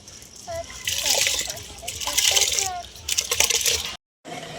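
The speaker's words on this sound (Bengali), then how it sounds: "চালের মধ্যে নুন দিয়ে দিলাম, এসছে। আমি এবার চাল দিয়ে দিচ্ছি।" Washed rice tipped into a pot of salted water, a gushing splash and pour of grains and water that swells and fades twice, with a voice talking over it and a brief dropout near the end.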